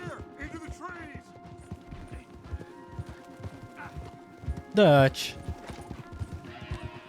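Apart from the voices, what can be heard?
horses' hooves while riding, from video game Red Dead Redemption 2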